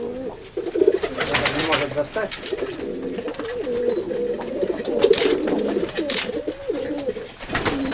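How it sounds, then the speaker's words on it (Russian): Pigeons coo steadily and close by while being hand-fed, their soft throaty calls continuing throughout with a person talking over them and occasional rustling and crackling. "Вот хорошие мои голуби."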